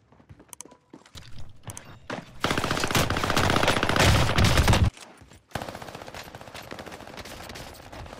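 Heavy bursts of automatic gunfire in a Call of Duty Warzone match on Rebirth Island or Fortune's Keep, with scattered shots first, then a long dense roar of fire that cuts off and resumes as steady rapid shooting.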